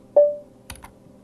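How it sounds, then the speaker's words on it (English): A few light keystrokes on a computer keyboard as a file name is typed, two soft quick clicks close together after a brief tonal blip, in an otherwise quiet room. "when I start typing in the name of my file right here"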